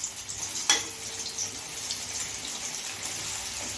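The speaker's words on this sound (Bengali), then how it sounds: "পনিরের টুকরোগুলো একসঙ্গে দিয়ে ভেজে নেব" Paneer pieces frying in hot oil give a steady, soft crackling sizzle with a brief louder splash near the start, with no one speaking.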